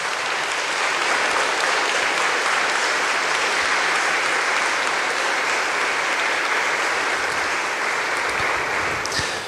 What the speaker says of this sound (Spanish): Un fuerte aplauso para los padres.